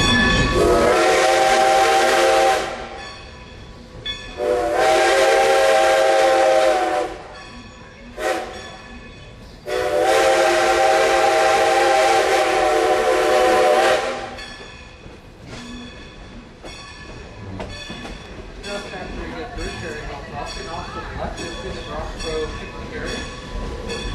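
Three long, loud steam whistle blasts from Strasburg Rail Road locomotive No. 90 sound close by, then the steady rumble and clatter of the train rolling along the rails continues.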